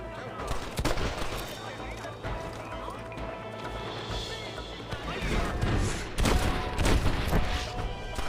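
Gunfire in a Red Dead Redemption shootout as enemies shoot down from above, with repeated cracks and bursts of shots over a dense, noisy battle din, some volleys loud and close, mixed with game sounds and voices.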